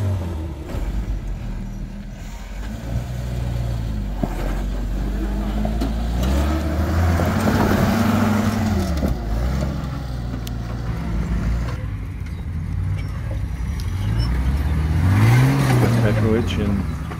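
A classic 4x4 Jeep crawls up a rocky ledge on the Rusty Nail Trail in Moab, Utah, its engine droning steadily and rising in a few revving surges over tire crunch and rattle, with people talking over it.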